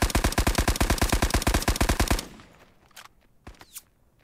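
A rapid burst of automatic gunfire in Hell Let Loose rattles for about two seconds, then stops, leaving a couple of faint scattered shots and clatters.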